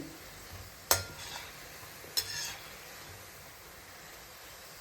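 Paneer gulab jamun dough made with semolina is stirred as it fries in a pan, with a soft steady sizzle broken by two sharp scraping strokes of the spoon, fairly quiet and with no voices.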